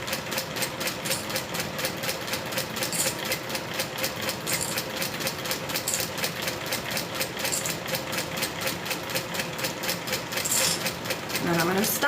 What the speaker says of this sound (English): right now I'm sewing over 6 layers of vinyl